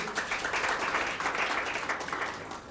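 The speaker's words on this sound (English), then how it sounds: "Can you have a round of applause?" An audience at a panel on feminist futures in mining and agriculture gives a short round of applause, a dense patter of many hands clapping at moderate volume.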